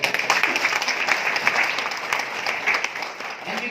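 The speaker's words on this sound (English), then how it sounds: "That deserves a round of applause." An indoor audience at a company leadership-sharing event gives a round of applause, dense and continuous clapping that starts strong and thins slightly toward the end.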